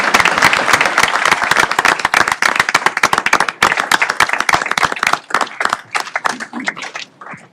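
A meeting room audience at a board of trustees session gives a loud, sustained round of dense applause honoring youth explorers for their community service, the clapping thinning slightly toward the end.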